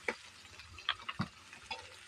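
Jackfruit pieces fry in mustard oil while being stirred, with soft scattered clicks and scrapes of the utensil over a faint low sizzle.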